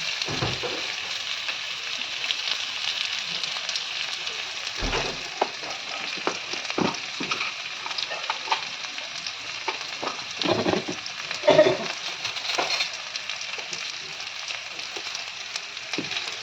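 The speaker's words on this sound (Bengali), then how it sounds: "আলুটা ভাজার পরে পেঁয়াজটা দিয়ে 1-2 মিনিট নাড়াচাড়া করলাম" Potatoes and onion fry in a pan for a chicken stew, giving a steady close sizzle broken by scraping stirs and brief clinks of the spoon against the pan.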